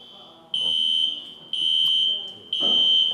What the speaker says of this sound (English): Did someone falsely pull the alarm?